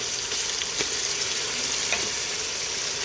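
Ginger garlic paste and coconut paste fry with onions in a pan, giving a steady close sizzle with a few light stirring clicks.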